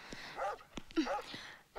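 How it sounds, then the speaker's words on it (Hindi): A dog barks and yips several times in quick, uneven bursts, fairly close, with short gaps between calls. "टाइगर इतना क्यों भौंक रहा है?"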